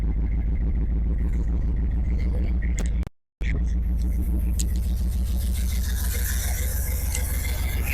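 Ford F100 truck engine running on choke after a start, a loud, steady low rumble with a rhythmic mechanical pulse close by, briefly cutting out for a moment before continuing unevenly.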